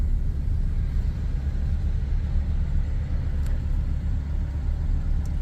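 A 1996 Chevrolet S10 with a 4.3 engine fitted with a Holley Sniper fuel injection unit runs smoothly. Its deep, steady rumble continues evenly throughout from close range, with faint ticks on top.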